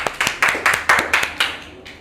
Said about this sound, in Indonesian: Oke, angkat tangan, tepuk tangan.